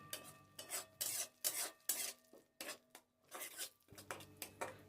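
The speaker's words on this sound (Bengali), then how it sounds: "এরপর সমস্ত মশলাগুলোকে আরও মিনিট 2 নেড়েচেড়ে নিতে হবে।" Spices for a green pea recipe, including chilli powder and garam masala, are stirred in a pan, giving repeated scraping, rasping strokes in an irregular rhythm with short pauses, close and fairly quiet.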